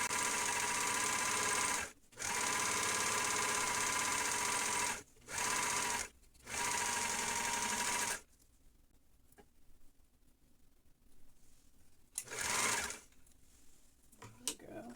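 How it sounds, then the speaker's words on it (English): A serger stitches the edges of fleece fabric in loud, steady mechanical runs: several long bursts with brief pauses, then a quieter stretch and one short final burst. "I will be finished with serging the edges"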